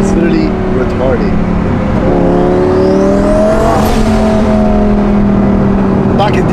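Twin-turbo Lamborghini engine revving loudly up close, its rising and falling harmonic whine sweeping through the pitch range, with people talking over it throughout.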